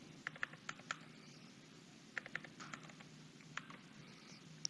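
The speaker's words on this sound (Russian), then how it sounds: "пишем пароль от ЭЦП" Keyboard keys tapped in short irregular bursts while entering a password for a digital signature key, faint and close over a steady low hum.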